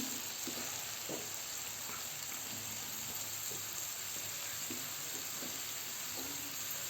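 Fresh spinach is stirred into mashed tomatoes cooking in a pan, heard as a steady loud sizzle with occasional soft scraping stirs under it.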